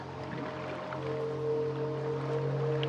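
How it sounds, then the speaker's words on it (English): A small boat glides through water in the dark horror game Little Nightmares II, a soft steady wash of lapping, sloshing water over a continuous low engine-like hum that swells slightly midway. "Just going through the water and our new boat."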